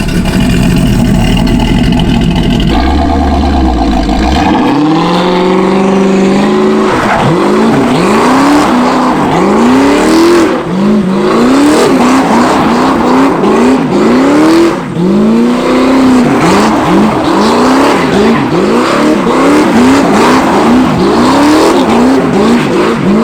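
A car fitted with a NASCAR-style boom tube exhaust does donuts, its engine revving hard in rising and falling sweeps over screeching tires, loud and close throughout.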